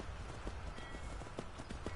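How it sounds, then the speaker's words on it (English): Horse hooves clop in a steady fast rhythm as a mount gallops in the video game Skyrim, the beats dense and continuous over a noisy game soundtrack. "I guess we'll go with my horse, why not?"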